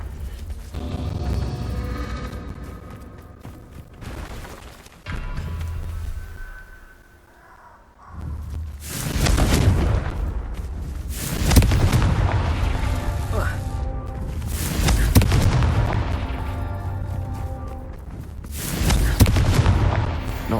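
Repeated Confringo blasting-curse explosions in Hogwarts Legacy, loud booming bursts roughly every few seconds mixed with spell effects and game music, with a voice talking between blasts.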